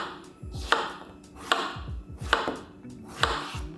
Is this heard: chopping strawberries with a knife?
yes